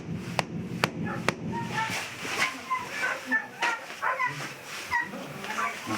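Many dogs barking and yelping inside a one-room flat of a nine-storey building kept in unsanitary conditions, a dense chorus of repeated sharp barks over a noisy, cluttered background, with some voices mixed in.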